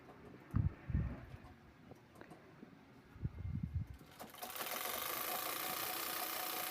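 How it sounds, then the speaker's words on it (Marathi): A few soft thumps and fabric handling sounds come first, then a sewing machine starts up and runs steadily, stitching the corner of a cloth bag made from blouse fabric, a quiet continuous whir. "ते आपल्याला फोल्ड करून अगदी कोपऱ्यावर शिलाई मारायची आहे"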